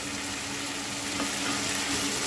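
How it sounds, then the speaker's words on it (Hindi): Ridge gourd masala with curd fries in a pan, giving a steady, even sizzle close by with soft stirring under it. "अब हम इसको एक मिनट तक भूनेंगे"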